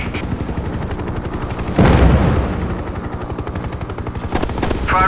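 Rapid, rhythmic gunfire from a helicopter turret gun in the combat flight game Hind, set in a Kazakhstan campaign, runs continuously with a loud blast near the two-second mark, over steady rotor noise.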